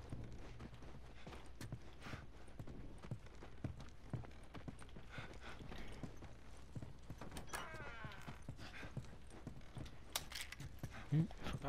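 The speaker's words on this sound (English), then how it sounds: "Let's get back to the horses." Horse hooves clip-clop in a steady walking rhythm at a faint level, with a few soft knocks and rustles around them, in the video game The Last of Us Remastered.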